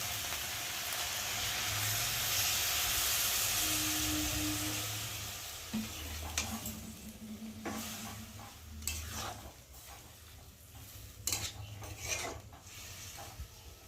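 Water splashed into a pan of bottle gourd greens and stirred, a loud rushing sizzle for several seconds that settles into quieter bubbling with sharp spatula scrapes against the pan.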